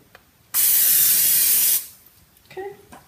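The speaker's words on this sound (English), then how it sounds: "So we'll spray this with Pam." A single loud, steady hiss of Pam cooking oil spray onto a pan for pancakes, lasting just over a second, followed by faint kitchen clatter.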